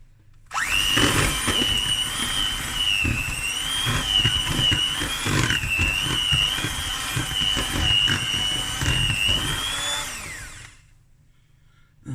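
An electric mixer whirs steadily for about ten seconds while beating butter for a large lemon pound cake batter, a loud sustained motor whine with a rhythmic churning beneath, then stops abruptly.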